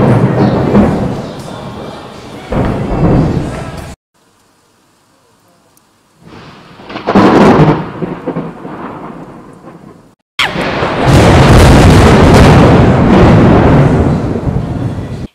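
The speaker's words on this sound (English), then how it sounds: "I'll insert a clip here of like some of the thunder that we got." Thunder and heavy rain in a torrential thunderstorm in Greece: loud, close cracks and rolling booms over steady downpour, with a near-silent gap between bursts.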